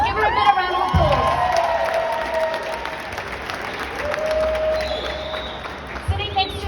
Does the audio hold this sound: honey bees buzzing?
no